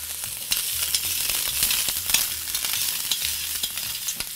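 Chopped ingredients sweating gently in a little oil in a pan, kept pale with no browning, while preparing a spiced monkfish dish with coconut broth; a steady soft sizzle runs throughout with faint intermittent clicks and stirring taps, close by and with no talking.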